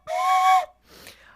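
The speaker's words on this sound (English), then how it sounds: "I just take every opportunity I can to toot the train whistle" A short toot on a train whistle, one loud steady blast of about half a second followed by a fainter breathy tail.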